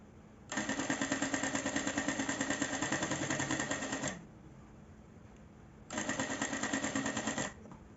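A sewing machine stitches fabric piping for a bag in two bursts of rapid, steady needle chatter, the first running about three and a half seconds, then a pause of quiet hum before a shorter second run, close and fairly loud.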